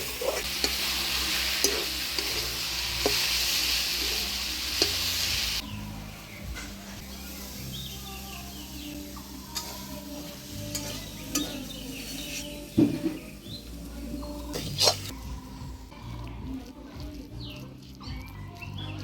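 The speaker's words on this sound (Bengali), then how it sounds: "কলমি শাক ভাজা হয়ে গেল, এবার নামিয়ে নিব।" Water spinach frying in a pan: a loud, steady sizzle with stirring scrapes for the first few seconds, then a quieter hiss with scattered clinks and knocks of the pan and utensil.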